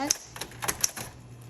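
Keystrokes on a Smith Corona Coronet Coronomatic typewriter, several sharp clacks in an uneven rhythm over a steady low hum, close and moderately loud.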